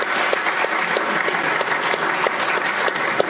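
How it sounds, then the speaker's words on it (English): Steady, dense applause from an audience at a panel discussion on business and political integrity, continuous and even for the whole stretch with no voices over it. "Shall we applaud them?"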